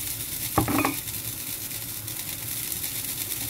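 Potato and eggplant fry in a pan with oyster sauce and light soy sauce, a steady sizzle running throughout with a brief scrape of stirring near the start.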